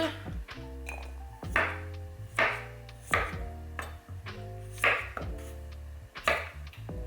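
A kitchen knife slices radishes into thin strips on a cutting board, each cut a crisp thud repeating roughly every second. Steady music plays beneath the chopping.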